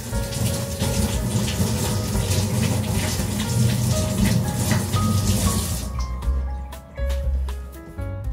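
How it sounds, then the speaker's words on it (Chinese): Running tap water rinses a small plastic part from a Panasonic NP-TA2 dishwasher, a loud steady splashing rush that cuts off near the end, leaving a few faint drips and clinks. "那这个小塑胶片你可以直接用水洗"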